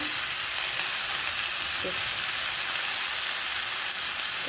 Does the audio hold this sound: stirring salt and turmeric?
yes